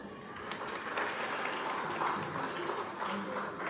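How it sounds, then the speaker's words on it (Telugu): Applause from an audience of women at an election campaign event in Mangalagiri, a dense, even clapping that holds steady throughout with faint voices underneath. "మీ అందరికీ క్లాప్స్."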